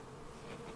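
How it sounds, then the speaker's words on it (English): Honey bees fly in a dense swarm around a colony being cut out of a rotten tree, a steady close buzzing drone that fills the whole short moment with no voices. "so we're going to end up with a lot of flying bees"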